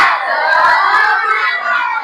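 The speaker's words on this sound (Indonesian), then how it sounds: "supaya semangat, kita tepuk semangat dulu yuk" Children in a classroom clap together in a rhythmic spirit-clap chant, a dense, continuous burst of hands and young voices close by that lasts about two seconds.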